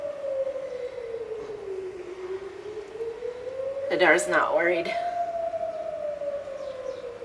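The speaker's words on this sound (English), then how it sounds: "So the air raid siren's going off." A wailing air raid siren rises and falls steadily in the background while a person speaks briefly over it.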